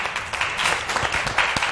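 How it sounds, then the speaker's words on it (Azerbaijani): A studio audience on a television health talk show applauds a doctor guest, a dense, loud burst of many hands clapping together for under two seconds. "Alqışlayaq həkimimizi."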